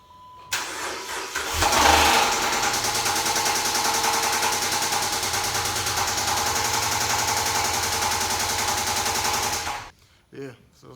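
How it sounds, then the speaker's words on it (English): A 2009 Dodge Charger with a 3.5 engine runs with a loud, continuous knocking from a bad rod for about nine seconds, close by, then cuts off abruptly near the end. "So how bad is the rod knock, you might ask? This bad."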